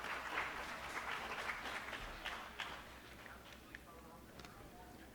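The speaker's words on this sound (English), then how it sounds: "Yes, you're allowed to clap." Audience applause at the opening of a community annual general assembly, a steady dense patter of clapping from a crowd that holds for several seconds at a moderate distance.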